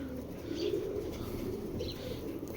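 A strong young adult male racing pigeon coos in a low, steady, continuous rumble, close and moderately loud, with faint chirps from other birds in the background.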